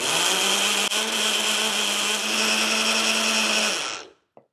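Kitchen blender pulsing a batch of pesto, a loud steady motor whir with a strong hum that runs about four seconds, then cuts off and spins down, followed by a brief clatter.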